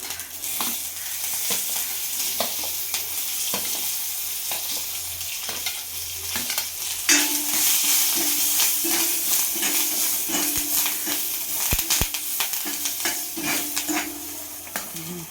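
Mustard seeds, green chilli, coconut pieces and curry leaves crackle and sizzle steadily in hot coconut oil for a taro stem curry, with a stirring spoon scraping the pan and sharp pops breaking through the loud, continuous frying.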